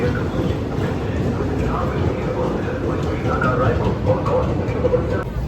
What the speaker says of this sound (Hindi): फाइनली हमन के ट्रेन आ गई हवा